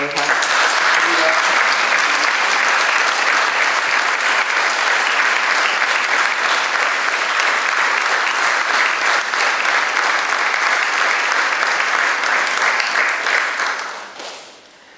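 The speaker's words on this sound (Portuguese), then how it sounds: "eu peço um forte aplauso para a doutora Ana Calvão Silva" An audience at a book launch in a museum gives Dr. Ana Calvão Silva a loud, dense round of applause that holds steady for about fourteen seconds before quickly tapering off at the end.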